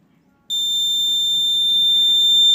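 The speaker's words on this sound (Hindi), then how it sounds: "जैसे ही हमारा फ्री डिस्क का सिग्नल आएगा तो यह जो बजर है बजने लगेगा।" A homemade dish-alignment signal meter's buzzer switches on abruptly and holds one loud, steady, high electronic tone, close by, over faint background hiss.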